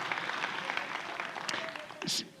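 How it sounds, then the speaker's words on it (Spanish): A crowd claps and applauds steadily, a dense patter of hands, with a brief sharp high-pitched sound near the end. "Un abrazo, un aplauso a la Pastora Magda de Juan Aldama, Zacatecas"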